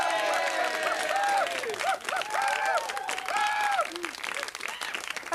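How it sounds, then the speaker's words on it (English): Studio audience applause on a 1995 British TV talk show, loud sustained clapping and some cheering from the crowd, with prominent tonal music playing over it the whole time. "Nice round of applause for one of our Dreamboy friends who are here with us tonight."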